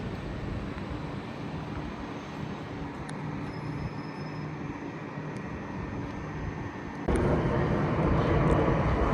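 Southern Class 377 electric passenger train 377419 pulls out of Clapham Junction, a steady low rumble and hum that swells louder toward the end amid station background noise.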